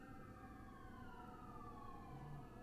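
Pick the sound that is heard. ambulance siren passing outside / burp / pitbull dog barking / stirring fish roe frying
ambulance siren passing outside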